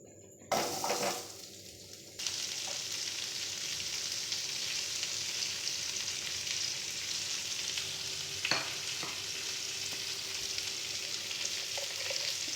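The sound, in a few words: potatoes frying in oil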